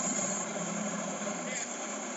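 A helicopter in the Happy Wheels video game drones steadily with a dense whirring rotor and engine noise, loud and continuous throughout.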